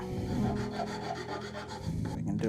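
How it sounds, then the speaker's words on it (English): A ferro rod handle has its corners chamfered with a rasp, giving continuous close rough scraping strokes for a few seconds. "I'm just going to chamfer these corners."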